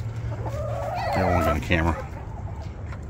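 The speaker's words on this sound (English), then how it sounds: "You guys are beautiful chickens." Chickens cluck close by in a hen house at a natural history museum in Gastonia, North Carolina, with a burst of clucking in the middle while a person talks nearby.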